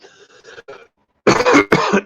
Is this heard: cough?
yes